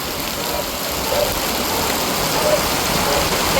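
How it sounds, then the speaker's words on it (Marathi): Heavy rain pours down in a steady, even hiss that fills the whole stretch, with a low rumble underneath and no clear voices. "पावसाने जबरदस्त हजेरी लावली खूप असा पाऊस आला"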